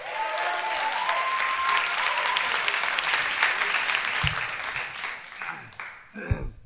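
A comedy club audience applauds comedian Kyle Kinane with loud, sustained clapping and a few cheers that thin out near the end, where a voice briefly speaks.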